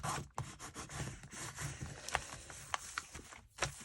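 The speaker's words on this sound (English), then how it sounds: "I'm just going to take my bone folder, give everything a burnish here" A bone folder is rubbed across paper pockets in a handmade botanical journal, giving close, quiet, rapid scratchy strokes in a steady back-and-forth rhythm without speech.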